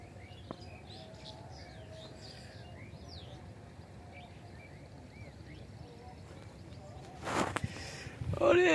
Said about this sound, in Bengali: সারবদ্ধভাবে কত পাখি বসে আছে দেখুন